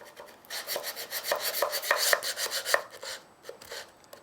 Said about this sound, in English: if you can't get right in the corner, you can use a knife or a very sharp chisel